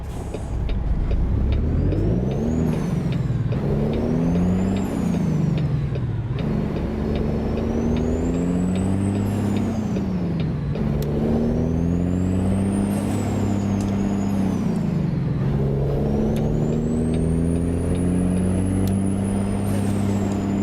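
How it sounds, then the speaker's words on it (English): Air brakes on a Peterbilt car carrier combo truck in the American Truck Simulator game, hissing in short bursts over a loud, steady engine drone that rises and falls in pitch, with no talking. "The brakes on this truck are a little touchy."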